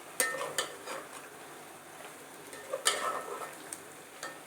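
A spoon scrapes and clacks against a pan as chopped tomatoes are stirred into masala frying over a medium gas flame, with a soft sizzle underneath and several sharp knocks spaced irregularly.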